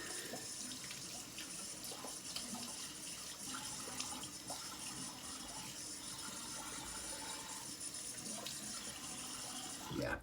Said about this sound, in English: So I'm going to rinse.